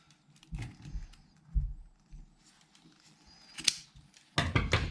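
Scissors snip through excess fabric bias tape on a small sewing project, a few soft separate cuts at close range with quiet handling noise between them and a busier rustle near the end.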